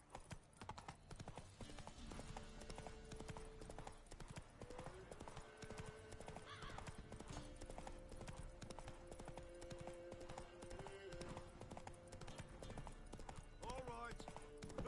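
In The Witcher 3, a horse's hooves clip-clop steadily at a run through the whole stretch, mixed under music and game sounds with voices talking over the top.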